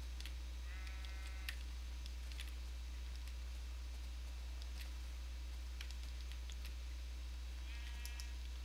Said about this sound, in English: Hey, sheep. Come on.